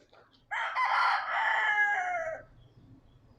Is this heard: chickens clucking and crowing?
yes